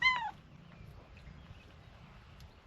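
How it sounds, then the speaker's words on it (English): A kitten gives one loud, clear meow up close at the start, then only faint room noise follows. "My kittens! Hey, kittens!"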